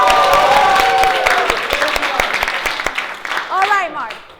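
A round of applause for Mark from an audience at a Harvard Extension keynote event, loud clapping with a few whoops that thins into scattered claps and fades, voices rising near the end.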